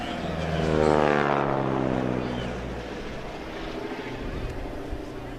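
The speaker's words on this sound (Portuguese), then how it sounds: "referiu aqui o ruído característico deste motor" A propeller aircraft passes low over the runway at a 2024 airshow in Castelo Branco, its engine drone rising and sweeping down in pitch as it nears and recedes, with a commentator's voice faintly underneath.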